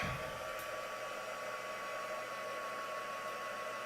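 A small blower runs to dry a craft piece during a live rock-painting demo, a steady, even whoosh of air held constantly throughout.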